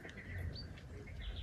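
A cuckoo calls outdoors in the countryside, faint and distant, its soft tones drifting over quiet background ambience with other light birdsong.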